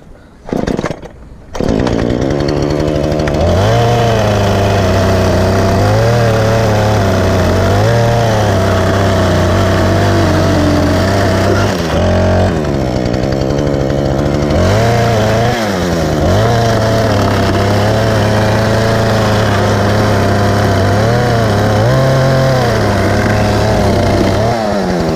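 A power saw cutting away a leftover piece of wood runs loud and steady for most of the stretch, its motor pitch wavering and dipping as the blade bites, with a brief pause near the middle before it resumes.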